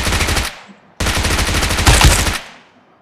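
Rapid automatic gunfire in the mobile battle royale game BGMI comes in two loud, close bursts separated by a brief pause, with no talk.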